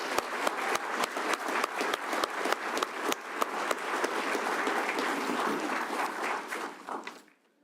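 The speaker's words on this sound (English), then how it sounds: "take a moment to recognize this class with a short round of applause for their accomplishment in this milestone" A room applauds a graduating law enforcement academy class, steady sustained clapping with a few sharper claps standing out, then fading out near the end.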